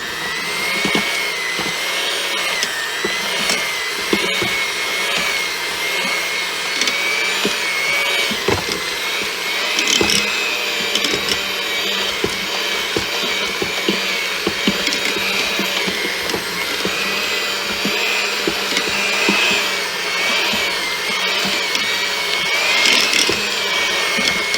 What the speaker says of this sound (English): Now you're going to take your mixer again and you're going to mix all this up.